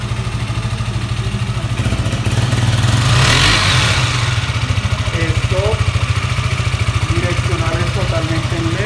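A Husqvarna Svartpilen 200 motorcycle engine idles with a steady, close, rapid thumping pulse that rises briefly as the throttle is blipped, while someone talks over it.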